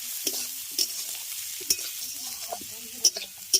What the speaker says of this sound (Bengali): সমস্ত কিছু একসঙ্গে দিয়েই আমি ভেজে নিচ্ছি